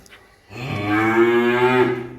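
An eight-month-old Friesian heifer calf lets out a single loud, close moo lasting under two seconds, rising in after a short quiet start and holding steady before cutting off.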